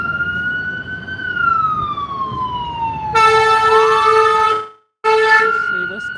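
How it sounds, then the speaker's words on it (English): An outdoor fire truck siren wails loudly in long falling sweeps, then switches to a harsher blaring horn pattern with a brief gap before sounding again. "That's a fire truck."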